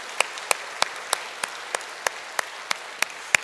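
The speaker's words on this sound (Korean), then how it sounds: "박수 한번 크게 해주실까요?" Clapping in a church congregation, heard as a steady, evenly spaced series of about a dozen sharp claps, distinct and close against a quiet background.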